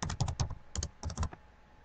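Typing on a computer keyboard on a Windows 7 computer: bursts of crisp, close key clicks in quick uneven clusters with short pauses between, no voices.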